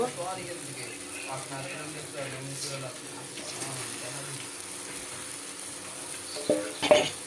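Bhangon fish go into a sizzling tomato masala, making a steady sizzle under a voice, followed by a couple of sharp clatters near the end.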